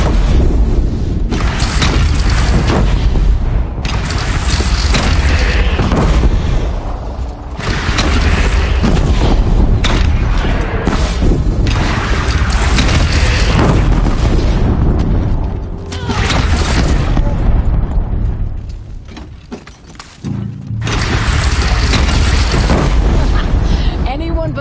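Cannon fire and explosions in a Horizon Zero Dawn battle against a bandit clan: loud, dense, repeated booms and blasts that rumble almost continuously, with brief dips, and game voices talking over them.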